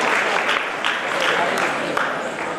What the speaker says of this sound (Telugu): చిన్నారులకు ఒకసారి గట్టిగా చప్పట్లతో అభినందనలు తెలియజేద్దాం